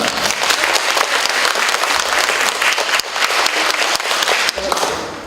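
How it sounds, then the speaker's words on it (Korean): Audience applause greeting a guest lecturer at an indoor investment seminar, dense continuous clapping from a sizeable crowd, loud and sustained throughout, with faint voices underneath. "뜨거운 박수 부탁드리겠습니다"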